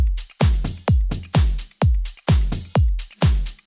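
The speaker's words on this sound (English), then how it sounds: "Then all the drums together sound like this." Tech house drum groove with all parts layered: a punchy four-on-the-floor kick thumping steadily about twice a second, with bright hats and a quiet percussion loop on top, loud and close with no voices.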